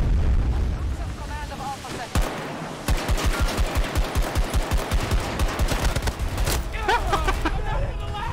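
Gunfire in Battlefield 2042: a sharp shot, then a long run of evenly spaced single shots in quick rhythm, loud and close, over a busy battlefield din with distant explosions.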